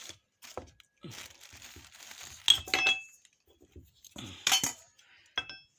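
An empty glass bowl is set down in a home kitchen while making licorice drink, giving several sharp clinks and taps amid rustling and quieter handling knocks, close and intermittent.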